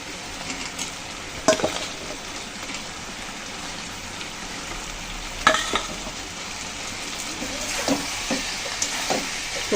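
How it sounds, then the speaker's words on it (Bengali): Fried shrimp stir-fried in a pan with soybean chunks and potatoes, giving a continuous sizzle with scattered clinks and scrapes of stirring throughout, close and unaccompanied by talk. "এখন আমি ভেজে রাখা চিংড়িগুলো দিয়ে দিচ্ছি। চিংড়িগুলো দিয়ে হালকা করে নেড়ে চেড়ে এখন আমি দিয়ে দেবো সয়াবিন আলু।"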